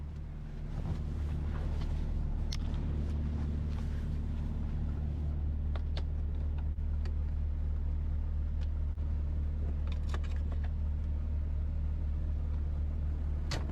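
An American semi truck rolls along the road, a steady low engine and tyre rumble with wind noise filling the cab throughout, scattered light clicks and knocks on top, and no speech.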